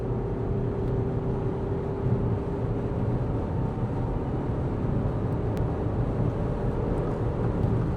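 Audi Q5 SUV accelerating, a steady low engine drone and road rumble heard from inside the cabin, continuous and fairly loud without speech.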